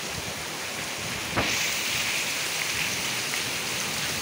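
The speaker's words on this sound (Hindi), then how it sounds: "बहुत ज़्यादा तेज़ बारिश हो रही है।" Steady, dense rain hisses down hard on surfaces during a windstorm, a constant close wash of noise with a brief sharp splash partway through.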